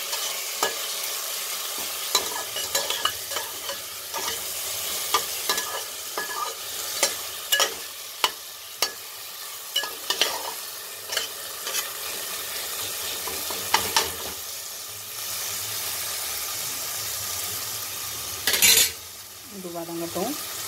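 Tomato and onion sauté for egg pasta, a strong continuous sizzle punctuated by frequent clinks and scrapes of a spoon against the pan, with a louder metallic clatter near the end.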